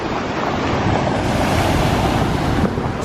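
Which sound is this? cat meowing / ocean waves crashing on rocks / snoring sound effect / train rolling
ocean waves crashing on rocks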